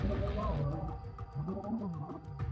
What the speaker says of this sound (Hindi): हमें धूल के बादल दिख रहे थे और उनकी दहाड़ें और गुर्राहट सुनाई दे रही थी।